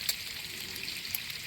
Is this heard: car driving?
no